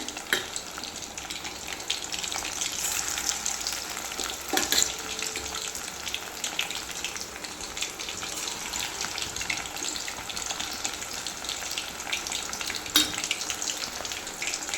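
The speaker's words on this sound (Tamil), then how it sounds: "இப்போ வந்து நம்ம எண்ணெயில் போட்டு பொரிக்க வேண்டியதான்" Marinated chilli chicken deep-frying in hot oil, a steady close sizzle and crackle with occasional louder pops, no voices.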